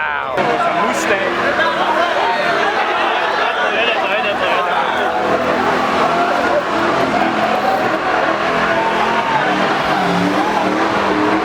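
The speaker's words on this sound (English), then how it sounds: "That's fucking loud. It's a Mustang." A loud Ford Mustang engine roars continuously and close by, with a dense, steady growl that fills the whole stretch, while people talk over it.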